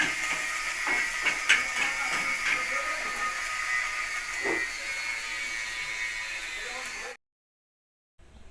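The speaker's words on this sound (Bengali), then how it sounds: "তো পেঁয়াজটা লাল লাল করে ভেজে নেব আমি।" Chopped onion fries in hot oil in a pan, a steady hissing sizzle with a few light scrapes and taps, cutting to silence near the end.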